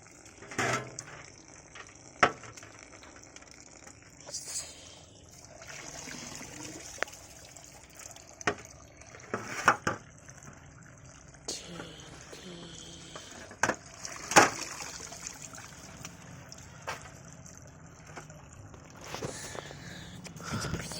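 Moringa flowers are washed by hand in water, with quiet splashes, trickles and sporadic sharp clinks and knocks of a container scattered over a faint background.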